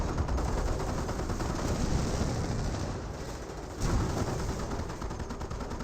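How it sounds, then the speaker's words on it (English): A Hellcat tank destroyer fires amid a dense, rolling battle in Company of Heroes, with continuous gunfire and heavy shots layered loudly over one another and a sharp blast near the end. "Hellcat firing away."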